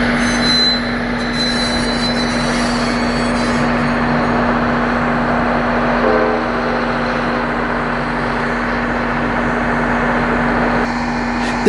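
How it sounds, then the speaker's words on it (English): A train bound for Royal Gorge passes near Canon City, Colorado, with a steady rumble of rolling railcars and wheels holding through the whole stretch, fairly loud and near, with a sustained tonal hum alongside. "This is the train that goes down to Royal Gorge."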